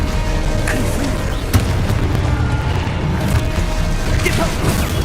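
A Confringo blasting spell explodes in Hogwarts Legacy, a dense rumbling blast bed with a few sharp cracking impacts over five seconds amid continuous game noise.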